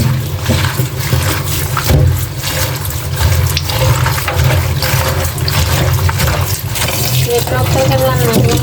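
Water splashes and runs steadily as vegetables are washed for home cooking, a loud continuous rushing flow close by that fills the whole moment.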